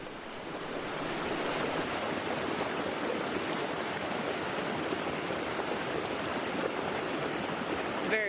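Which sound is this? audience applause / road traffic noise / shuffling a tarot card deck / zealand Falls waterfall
zealand Falls waterfall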